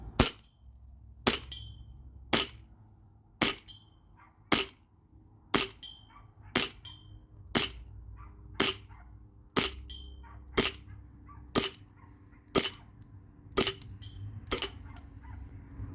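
A Sig Sauer Emperor Scorpion CO2 BB pistol fitted with a mock suppressor fires about fifteen sharp, evenly spaced shots roughly a second apart outdoors, each a crisp snap with a short tail, and no talking.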